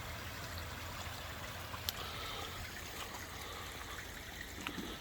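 Pond water trickles steadily outdoors on a hot day, a soft continuous wash of flowing water, faint and without any talk.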